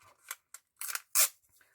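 Scissors snip through a small piece of adhesive tape with several quick, close, crisp cuts in an irregular rhythm, the last one the loudest, with no talking.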